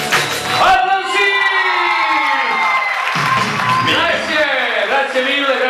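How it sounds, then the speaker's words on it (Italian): Live show audience in Italy cheering, whooping and shouting loudly throughout, with voices rising and falling in a dense, continuous crowd roar that has little clear clapping. "Applausi!"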